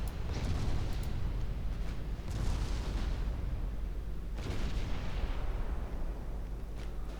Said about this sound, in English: I see they're exploding and detonating aboard the ship